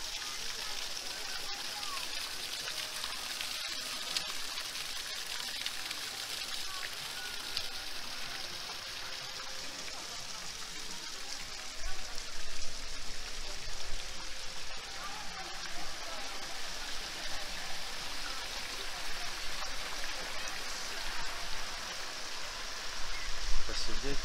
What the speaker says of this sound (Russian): Вот такой мини-водопад.